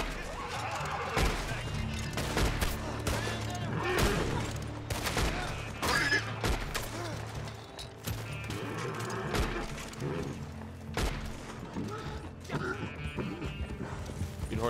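Dense gunfire in the Western shooter Red Dead Online, many sharp shots and volleys packed together across the whole stretch at a steady loud level, with game ambience and a voice faintly underneath.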